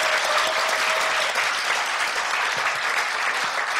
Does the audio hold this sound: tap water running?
no